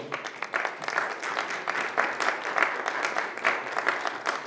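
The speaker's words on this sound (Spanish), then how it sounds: "dense un aplauso a ustedes mismos" Applause from a church congregation gathered for a worship service, steady dense clapping across the whole stretch with some rising bursts, fairly loud and close.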